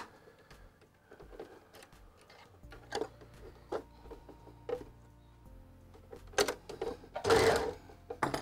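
A sewing machine runs a chain stitch in short, quiet bursts of rapid mechanical ticking, with handling clicks between runs and a louder stretch near the end.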